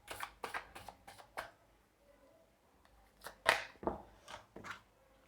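A deck of tarot cards is shuffled by hand in a run of quick, dry riffling bursts that start and stop, close and fairly soft, with a brief pause in the middle and no talking.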